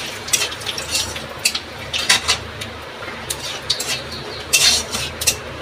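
Nigella seeds, a bay leaf and a dried chilli tempering in hot oil, heard as a soft background sizzle broken by repeated sharp metallic clinks of a spoon stirring against the pan.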